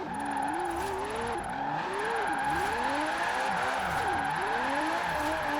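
A car slides in a controlled drift, its engine droning steadily while the pitch swoops up and down with throttle changes, sustained and fairly close with no talk.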